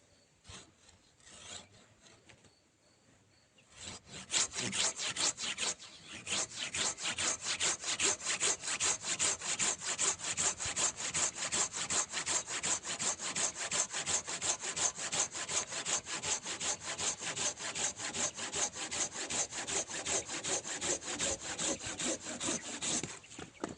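Hand saws, Japanese and Ukrainian, cut through wood in a fast, even rhythm of rasping strokes, loud and close after a brief quieter start, continuing steadily without talk.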